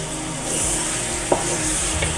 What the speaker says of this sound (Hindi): चिकन को हमने फ्राई करना है अच्छी तरह